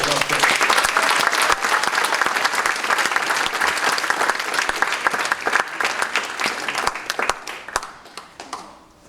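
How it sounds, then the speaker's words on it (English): A large crowd at a high school hall of fame ceremony applauds loudly and steadily, the clapping thinning out and fading toward the end. "Please join me in welcoming with applause and acclaim Dan O. Root II"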